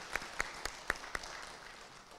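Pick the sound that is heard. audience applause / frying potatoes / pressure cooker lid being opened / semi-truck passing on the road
audience applause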